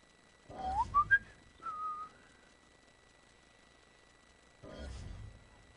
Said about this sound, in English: Not popular choice, whistling.